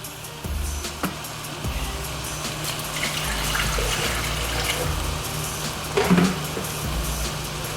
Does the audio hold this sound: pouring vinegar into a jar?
yes